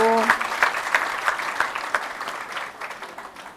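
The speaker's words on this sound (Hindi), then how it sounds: "देखो आप सब लोग, हमारी सुनीता ने कितना अच्छा लिखा है, ताली बजाओ" Applause from a small indoor gathering, a short burst of clapping after a brief voice at the start, fading gradually over a few seconds.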